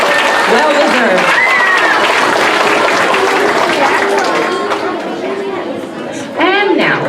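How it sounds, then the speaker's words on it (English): A school awards assembly crowd claps and cheers for a student, dense applause filling the room with chatter mixed in, easing slightly before a voice speaks over it near the end. "Let's give Jacob another round of applause."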